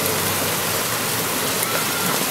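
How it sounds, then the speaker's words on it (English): Steady thunderstorm rain pours down outdoors, a dense, continuous wash of drops that holds at an even level from start to finish, with no voices over it. "Yeah, thunderstorm."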